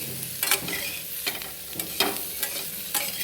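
Baby potatoes in a spiced curry with red chili powder and turmeric, stirred in a pan: a soft frying hiss with repeated scraping strokes of a spoon at an uneven rhythm, close and moderately quiet, no talking.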